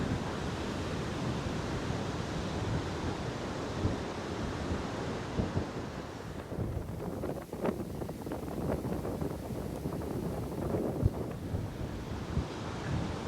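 Waves wash onto the beach at Port Douglas on the Queensland coast, a steady, close broadband surf roar mixed with gusty wind buffeting the microphone, continuous throughout with no voices.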